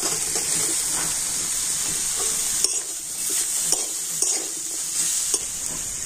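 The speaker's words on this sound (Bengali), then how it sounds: "আর এখন আমি ভেজে রাখা সবজিগুলো দিয়ে দিচ্ছি" Fried vegetables are dropped into salted, wilted greens sizzling in a wok and stirred, giving a loud, steady frying hiss with occasional scrapes and clatters.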